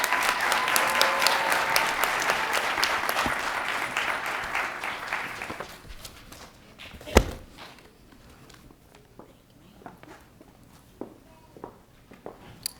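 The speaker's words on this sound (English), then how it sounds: "Please give our future music educators a round of applause." Audience applause at a university education pinning ceremony for future music educators: loud clapping for about six seconds, then it dies out into sparse footsteps, a sharp knock and scattered quiet taps.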